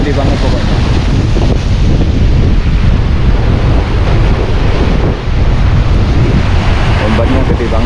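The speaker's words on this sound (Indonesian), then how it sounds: "Ombaknya gede banget pokoknya." Large waves break and churn along the Red Sea shore in a continuous loud roar, heavily buffeted by wind blasting the microphone throughout.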